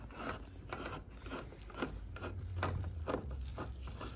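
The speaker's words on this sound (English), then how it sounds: "Take your torque screwdriver. Find that screw on the back." A torque screwdriver turns a door handle screw on a Toyota Tundra or Sequoia truck door. It gives faint, regular ratcheting clicks close by, repeating through a quiet, steady background.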